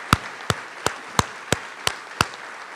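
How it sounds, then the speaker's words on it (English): Seven sharp, evenly spaced hand claps ring out singly at a press conference, sparse and clear rather than a full crowd ovation, with no talking over them. "Let's give them a round of applause."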